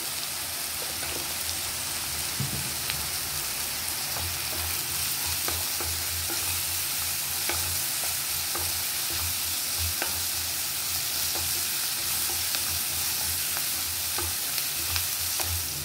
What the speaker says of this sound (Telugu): ఉల్లిపాయలు బాగా తొందరగా ఫ్రై అవుతాయి